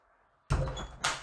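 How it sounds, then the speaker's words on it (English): A door closing with a sudden dull thud and a brief knock-like burst after it, close by during a dog door-manners training session. "close the door, walk back and treat."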